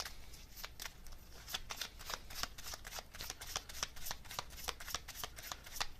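Oracle cards shuffled by hand, a steady run of crisp riffling flicks repeating for several seconds, close and fairly quiet with no talk.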